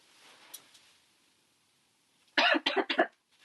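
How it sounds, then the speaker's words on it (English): After a near-silent stretch, a person coughs several times in a quick, harsh burst of about four close coughs. "I obviously have a really bad cough"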